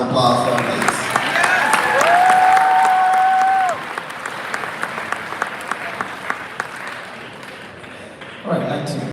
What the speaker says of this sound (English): Let's have another round of applause for our ladies.